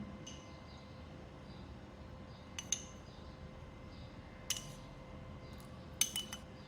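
A spoon clinks faintly against a bowl as tamarind pulp is mixed with black salt and chaat masala, giving a few sparse, quiet taps and scrapes over a low background hum.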